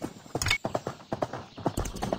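Hooves clip-clop in a quick, even trot, loud and close, while a horse is ridden in the Horse World 3D game. The rhythm runs steadily with no voices.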